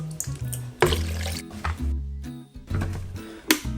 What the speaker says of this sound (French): On reprend notre bouillon et on va tout simplement mouiller à hauteur.